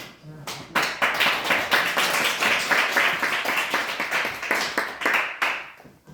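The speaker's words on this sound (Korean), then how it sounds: "우리 박수 크게 쳐주시기 바랍니다" A congregation claps loudly during a Korean Sunday church service, a dense burst of applause that rises quickly, holds for several seconds and fades at the end.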